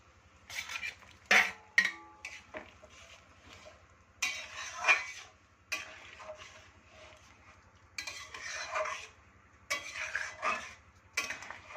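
Fried chicken pieces go into a pan for chilli chicken and are stirred, giving clattering spoon-on-metal scrapes and clinks in short bursts over a faint low sizzle, with no talking.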